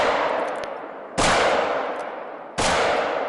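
Handgun fire aimed at a moose in theHunter: Call of the Wild, with two sharp, loud shots about 1.4 seconds apart, each decaying into a long reverberant tail.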